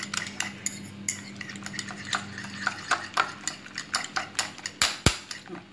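Eggs being beaten with a spoon in a bowl for a karandi omelette, a quick run of close, rhythmic clinks and taps of metal against the dish.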